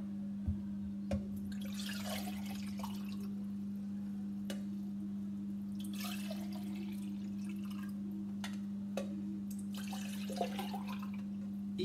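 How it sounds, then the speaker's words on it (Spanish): Water running from an opened tap into a shower, a faint trickle and scattered drips over a steady low electrical hum, with no voices. "Abrió la llave del agua"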